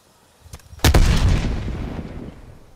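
A frag grenade detonates in a first-person shooter with one loud, close blast after a faint earlier pop, followed by a rumbling tail that fades over about two seconds.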